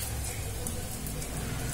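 Spice paste frying in hot oil, giving a soft, even crackling hiss close by with faint scattered pops and no talk.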